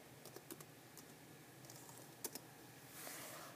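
Someone types a movie title on a computer keyboard, producing a few faint, sparse key taps separated by pauses, with a soft hiss rising near the end.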